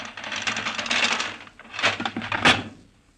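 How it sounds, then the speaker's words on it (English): A door being opened in a 1938 radio drama, rendered as a rattling, creaking sound effect in a few clustered bursts, close and moderately loud, with no talking. "It sounds like someone was opening the door."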